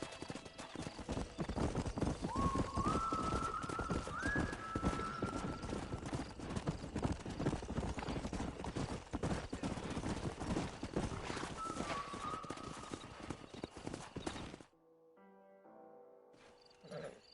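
Horse hooves clip-clop steadily and close in Red Dead Redemption, a game set in the Old West, with a brief whinny over the rhythm. The hoofbeats run loud and even for about fifteen seconds, then cut off abruptly.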